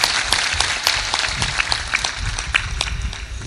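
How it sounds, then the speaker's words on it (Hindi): An audience at a spiritual discourse applauds, with dense, continuous clapping filling the space, loud and steady throughout with no speech over it. "जोर से मारो ताली, बजाओ एक बार।"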